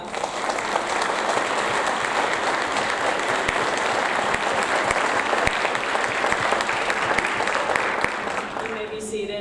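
Audience applause fills a sixth-grade school awards ceremony, a dense, steady burst of clapping lasting several seconds before it thins out near the end.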